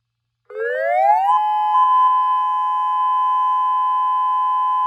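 A home-built dual tone siren winds up in pitch, then holds a loud, steady continuous tone with no one speaking.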